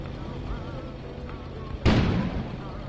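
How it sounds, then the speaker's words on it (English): A sudden explosion goes off outside in the video game Kona, a broad, loud burst that starts abruptly and rumbles briefly over low, steady background ambience. "An explosion suddenly occurred outside."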